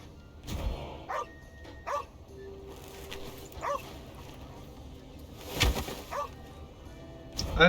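A dog barks and yips in several short, sharp bursts spread across a few seconds, fairly close by, with some background noise between barks.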